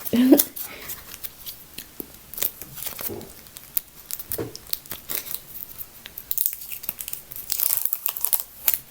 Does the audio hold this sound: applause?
no